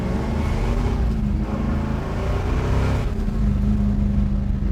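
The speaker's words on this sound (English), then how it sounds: "Little small block putting out some horsepower, baby. Sounding amazing." A 1969 Chevrolet Chevelle's small-block V8 pulls hard under acceleration during a drive, a loud continuous throaty roar that swells and shifts pitch slightly, with no talking over it.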